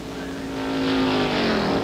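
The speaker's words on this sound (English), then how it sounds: "as the cars flash by us" Stock race cars in the 1961 Firecracker 250 NASCAR Grand National race at Daytona International Speedway roaring past, a whining engine note that swells as they approach and sweeps by, with faint commentary underneath.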